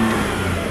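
A 2000 Lexus ES 300 with 57,000 miles, shifted into drive at a dealer auto auction, runs with a steady, close, loud engine hum that holds an even level throughout.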